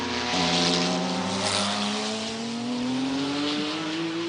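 A Porsche 962 race car at the 1994 Le Mans 24 Hours drones past with a steady, rising engine whine, loud and sustained without voices.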